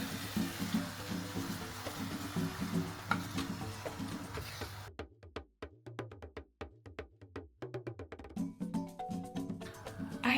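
Water being poured and sloshing into a pot of Kenyan pilau rice during cooking, with splashy running water first, then a quieter stretch of intermittent drips and stirring clinks before the water noise returns.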